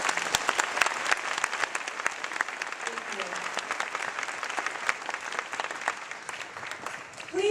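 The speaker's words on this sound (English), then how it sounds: "Can we give them a round of applause, please?" An audience at a community celebration of diversity claps in sustained, dense applause that holds steady for several seconds before fading slightly at the end.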